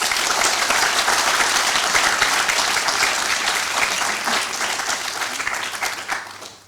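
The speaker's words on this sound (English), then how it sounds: "Let's give them a big round of applause." Steady, loud applause from a graduation ceremony audience honouring teachers at a public health school, dense clapping that holds for several seconds before gradually thinning and fading out.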